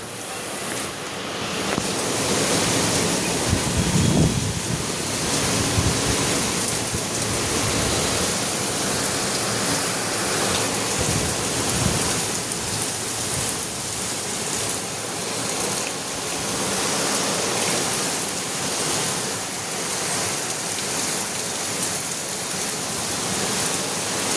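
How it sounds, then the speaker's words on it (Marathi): Heavy monsoon rain in Tardeo, Mumbai, pours steadily and loudly throughout, a dense continuous roar of water with no voices. "आता तारदेवमध्ये खूप जोरात पाऊस येतोय"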